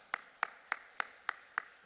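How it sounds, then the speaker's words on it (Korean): A church congregation claps in unison during a Sunday service, six sharp, evenly spaced claps at a steady brisk rhythm, fairly faint and with no voices. "우리 이 시간 하나님께 영광의 박수 한번 올려드리겠습니다"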